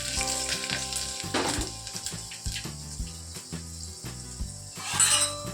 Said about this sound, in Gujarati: લસણ ને હિંગનો જ વઘાર કરવાનો છે